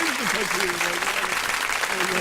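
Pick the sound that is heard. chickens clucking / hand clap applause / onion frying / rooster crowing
hand clap applause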